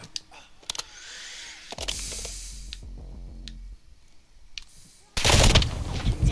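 Gunfire from Call of Duty: Modern Warfare 2 gameplay, with sharp single shots and a burst of automatic fire, then a loud blast near the end, mixed with game sounds and a voice talking.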